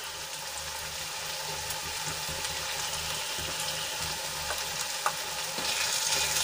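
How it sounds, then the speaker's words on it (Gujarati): Spices and salt, including garam masala, red chilli powder and coriander-cumin powder, stirred in a hot frying pan for a sandwich filling, a continuous close sizzle with faint scraping, no talk. "મસાલાને સરસ રીતે મિક્સ કરી લઈશું।"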